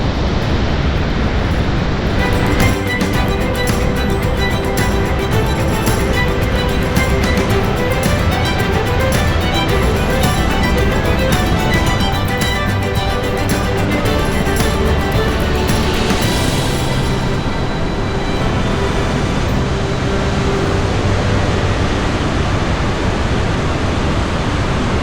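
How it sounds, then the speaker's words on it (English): Loud, steady roar of Augrabies Falls in flood in South Africa's Northern Cape, a dense wall of rushing, crashing water that continues without a break from start to finish. "there is a lot of noise here with all of this water coming down."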